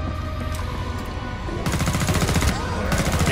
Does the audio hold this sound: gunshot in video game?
yes